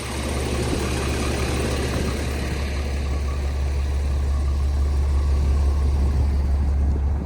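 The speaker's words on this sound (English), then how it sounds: "Sounds like a diesel." A Peterbilt 389X truck's diesel engine idles close by, a steady low rumble with a constant throb that holds evenly for the whole stretch, with no talking.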